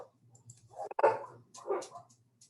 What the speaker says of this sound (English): We have a dog passing,